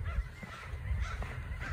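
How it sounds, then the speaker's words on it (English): Ducks near a pathway give a few honking calls at moderate distance over a steady outdoor background hum. "there's a pair of ducks over there"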